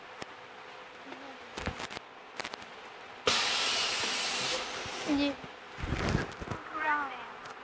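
A corner crimping machine for window frames runs through a demonstration, giving a sustained loud mechanical whir for about a second, with shorter bursts of clanking and hissing before and after it, against a background of faint voices.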